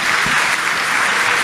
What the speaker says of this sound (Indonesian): Tepuk tangan yang paling meriah buat.